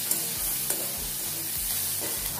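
Spices fry in a pan for pasta, giving a steady close hiss of sizzling oil broken by a few rhythmic scrapes of a spatula, with no voices.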